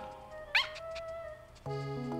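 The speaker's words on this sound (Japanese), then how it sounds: "あれは何だ、どんな犬が来てんのこれ" A dog in the video game Nintendogs + Cats gives a single brief yip, close and quiet, amid game music and electronic tones.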